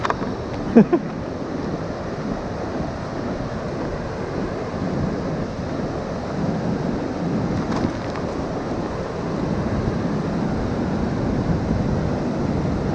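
The Marsyangdi river in Lamjung, Nepal, rushes in a steady low roar of flowing water, broad and constant, with a brief bump near the start and no talk.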